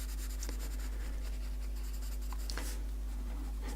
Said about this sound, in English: you can start to put a bit more weight on your pencil, shade in, put a bit more dark shading in there